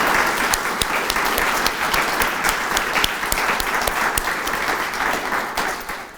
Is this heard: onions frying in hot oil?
no